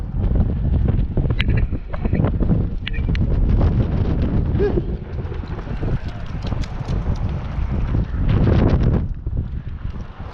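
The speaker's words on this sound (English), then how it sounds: "The winds are whipping out here" Strong wind buffets the microphone outdoors during a windy day of wheelie riding, a loud, continuous roar with gusty surges that swell and ease across the whole stretch.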